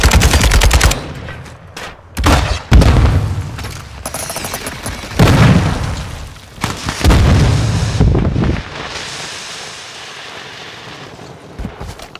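Heavy gunfire in a battle royale video game: bursts of rapid automatic fire and loud booming shots, close and loud, with brief gaps between volleys.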